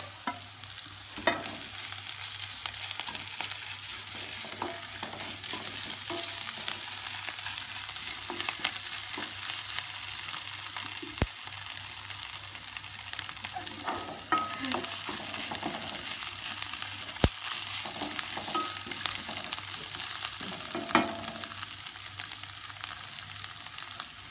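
Ginger paste frying in a pan for a fenugreek sprouts curry, a steady, dense sizzle that runs throughout with occasional stirring scrapes and small knocks, close up and without talk.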